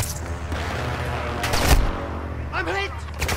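Sniper gunfire in a combat video game, with several sharp shots and a loud crack near the middle, set against constant battle noise and voices.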